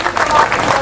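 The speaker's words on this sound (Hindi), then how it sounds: "तालियां तो बजा दो भाई।" Audience applause at a Hindi political speech on Dalit sub-classification, a brief burst of dense clapping that fills the whole moment at steady loudness, with no voice over it.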